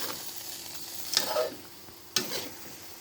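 Pickled bamboo shoots stirred into a hot pan, a quiet sizzle punctuated by two sharp metallic scrapes of a spatula against the pan, close by and without speech.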